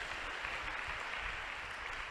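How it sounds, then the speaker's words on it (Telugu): A church congregation claps during a sermon, a faint, steady patter of many hands heard from a distance for a couple of seconds, with no talk over it. "కొట్టు చప్పట్లో ఒకసారి"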